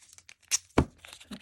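Painter's tape tears off the roll during card making: two quick, close ripping bursts, the second louder, among faint crinkles in a quiet room.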